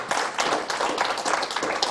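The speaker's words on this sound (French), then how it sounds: "on peut applaudir nos deux invités" An audience applauds two guests after a talk on number learning and dyspraxia, with dense, close clapping from a small room crowd continuing evenly throughout.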